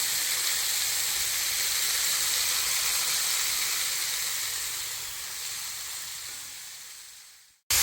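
Steady loud sizzling from a pan of spinach as grated coconut, onion and green chilli go on top for Kerala cheera thoran, a continuous hiss that fades slightly and cuts off abruptly near the end.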